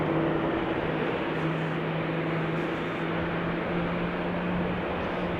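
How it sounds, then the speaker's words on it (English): Airliner engines spin up at Amsterdam Schiphol Airport, a steady distant roar with a low droning hum holding constant, heard from afar without any voices. "Engine starting noises."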